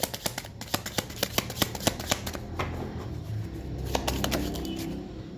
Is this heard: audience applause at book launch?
no